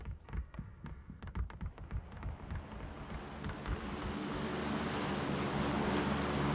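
An airplane drones overhead in the PUBG battle royale game, a steady low throbbing hum that swells and fills the second half after some scattered footsteps and thumps early on, with no talk.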